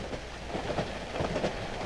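Steady rumble of a train ride in the horror video game Cry of Fear, a continuous low rolling noise with faint rhythmic knocks, fairly loud and without any voices.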